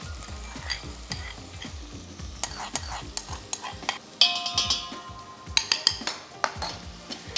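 Onion fries in a pan for a Koli-style crab curry, a close sizzle broken by stirring scrapes and sharp clinks of a utensil against the pan, with no talk.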